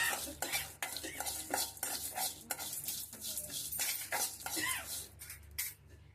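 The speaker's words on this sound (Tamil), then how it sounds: "இப்போ இது எல்லாத்தையுமே வந்து மீடியம் ஃப்ளேம்ல கொஞ்ச நேரம் வறுத்துக்கலாம்." Spices dry-roasting in a pan on a medium flame are stirred in quick rhythmic strokes, each one a close metallic scrape and rattle over a faint sizzle, with no speech.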